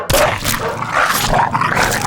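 A dog growls and gives a few short yips in a Christmas movie, close and fairly loud in brief, rough bursts.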